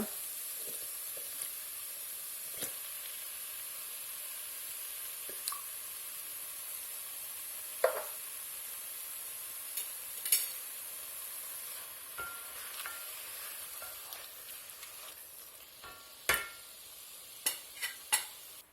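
Tomatoes fry for a chickpea curry, giving a soft, steady sizzle with occasional light clicks and scrapes of stirring near the end, fairly quiet throughout and with no voices.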